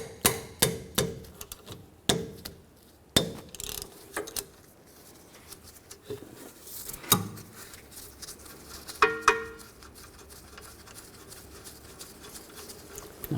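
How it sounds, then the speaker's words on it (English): Close, crisp ratcheting clicks from a 14mm socket wrench loosening the rear brake caliper bolts on a 2009-2017 Chevy Traverse, coming in sharp bursts of rapid pawl ticks with short pauses between, and no talking. "We're going to take these two bolts out."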